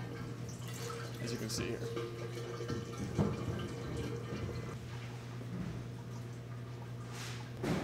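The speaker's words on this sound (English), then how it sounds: "when we loosen up the drain plug, the fluid will flow down the hose." Coolant drains from the radiator of a Mercedes CLK550 through a hose in a quiet, steady trickle of flowing liquid with faint drips. Someone speaks briefly over it.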